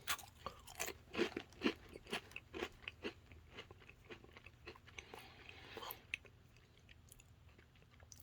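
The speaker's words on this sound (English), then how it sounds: "I don't know how much the microphone is picking up my chewing" Someone chews crunchy food close to the microphone, a quiet steady run of bites and crunches with scattered sharp crackles and no talking.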